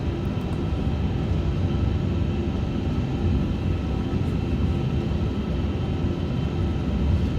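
Airbus A350-900 engine noise in a flight simulator, a steady, loud low rumble and roar continuing without pause as one engine is shut down and the APU started while taxiing after landing.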